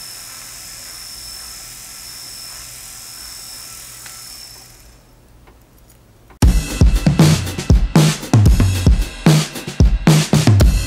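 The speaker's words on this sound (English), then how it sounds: "so I've got my cup burr, get some blade butter, and just start going after these guys" A rotary tool with a cup burr, lubricated with blade butter, grinds a wire chain link. Its high, steady whine runs for about five seconds, stops briefly, then comes back louder with harsh, uneven grinding bursts close by.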